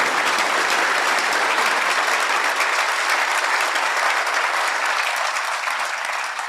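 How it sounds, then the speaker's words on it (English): A large audience at a downtown civic event claps in sustained, dense applause, steady and loud throughout before easing slightly at the end. "Let's give them a huge round of applause."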